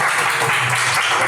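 An audience at an astronomy talk applauds in a dense, even wash of clapping that stays loud and steady for just over a second.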